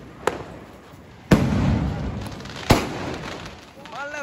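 Three sharp firecracker bangs outside during Diwali, spaced a second or so apart, each followed by crackling fallout; faint voices appear near the end.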